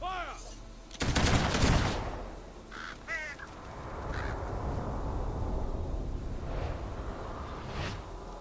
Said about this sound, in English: Oh, he's getting firing squad.